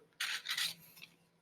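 Wood furniture being hand-sanded with 120 grit sandpaper: a couple of close, brisk rasping strokes, then quieter scraping, with no talk.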